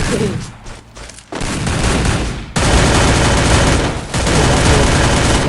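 Gunfire in the mobile battle royale game Free Fire, with bursts of loud, dense shooting that keep going almost nonstop and grow louder partway through.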